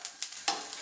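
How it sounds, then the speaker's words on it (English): Onion and garlic fry in a pan for a pasta carbonara, a brief burst of bright sizzling with a few crackling pops and the scrape of stirring, close and moderately loud with no talk. "Now the onion and the garlic are browned really nicely. Everything's smelling real good. We can start adding the chicken. Well, okay, that sizzle"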